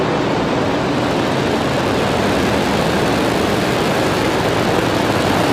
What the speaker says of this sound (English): Ignition and liftoff. Go Falcon, go MTG-S1.